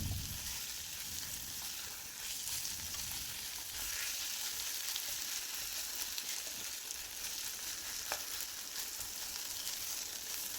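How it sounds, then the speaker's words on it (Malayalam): A soft, continuous sizzle from a pan of boiled potato and egg snack mixture being stirred, faint and steady with an occasional light scrape and no talking. "എല്ലാം കൂടി ഇട്ട് കൊടുത്തൊന്ന് ഇളക്കി കൊടുക്കാം"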